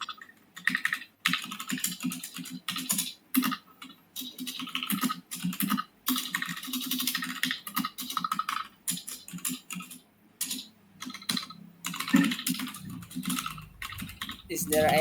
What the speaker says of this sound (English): Your typing speed is amazing.